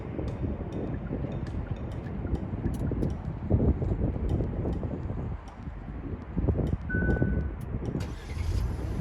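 A Kia Stinger engine started via a remote starter, heard as a steady low idle rumble with faint outdoor wind and a few short sharp clicks or beeps scattered through.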